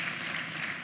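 Brief burst of audience applause at a university inaugural lecture, a dense even wash of clapping from a crowd, moderately loud and without pause.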